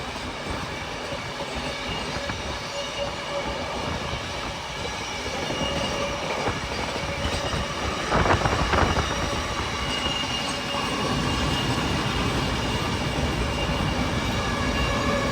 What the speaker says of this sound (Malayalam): കിഷൻഗഡ് റെയിൽവേ സ്റ്റേഷനിലേക്ക് ട്രെയിൻ എത്താനായി. അതിന് മുന്നെയാണ് ഈ ഒരു ഓവർടേക്ക്.